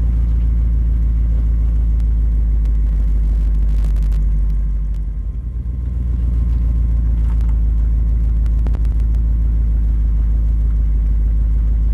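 A car engine runs steadily with a deep low rumble, dipping briefly midway and then holding, as though it idles or rolls in close, with no talking.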